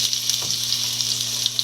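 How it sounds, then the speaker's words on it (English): Garlic sizzles in hot oil in a frying pan: a steady, crackling fry that stays close and even throughout, with a brief stir partway through. "we're going to heat some garlic"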